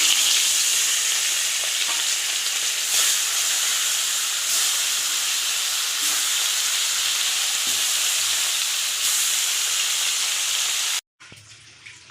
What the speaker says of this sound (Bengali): সাদা তেল দিয়েছি, তেল গরম হয়ে গেছে, এবার মাছগুলো ভেজে নেব